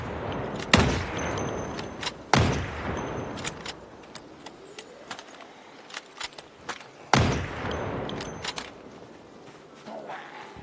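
MSR 700 rifle fired in the Project Zomboid video game: three loud, sharp shots spaced seconds apart, with faint clicks and small game noises in between and no talking.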